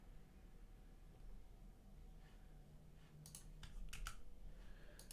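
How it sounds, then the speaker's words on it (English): Keys tap on a computer keyboard during coding work, a few quick bursts of clicks over a steady background hiss, fairly faint and with no talking. "we'll just carry on typing"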